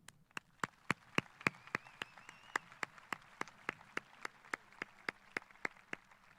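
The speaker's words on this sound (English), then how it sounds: "Please join me in a round of applause in recognition of their hard work and dedication" Audience at a high school graduation ceremony applauds school staff with a steady run of sharp, distinct hand claps over about six seconds, fairly sparse and moderately distant in a large hall.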